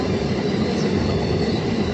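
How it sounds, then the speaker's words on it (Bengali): A crowded passenger train in motion, heard from inside the carriage as a steady, loud rumble of wheels and rattling with no pauses and no talking. "ফাইনালি আমরা ট্রেনে চেপে গেছি।"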